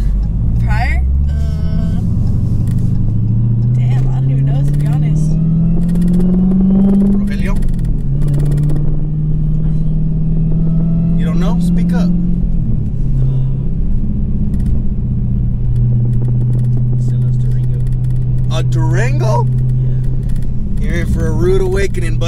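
A 900+ wheel-horsepower Dodge Hellcat drives with a loud, constant engine rumble whose pitch rises and falls through gear changes, and people talk over it in the cabin throughout.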